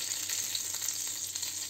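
Burbot fish cutlets, made from river fish, sizzle in a frying pan with a constant soft crackle and hiss, close up and quiet.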